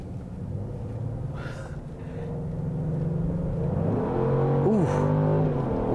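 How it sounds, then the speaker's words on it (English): A 2022 Genesis GV70 Sport compact luxury SUV accelerates, its engine note rising steadily in a smooth, building rumble with a brief higher whoosh near the end, heard from inside the cabin without talk. "Oh, love the quickness of this SUV."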